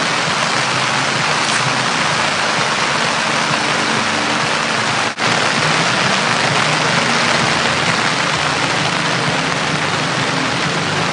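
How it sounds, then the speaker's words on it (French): Heavy rain pouring down outdoors during a party, a loud dense continuous hiss filling the scene throughout with a brief dip midway, no voices. "il y a la pluie qui commence"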